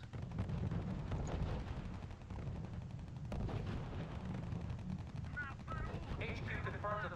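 Gunfire and artillery rumble almost without pause in the strategy game RUSE, dense rolling bursts and booms under a radio-style voice delivering battlefield reports.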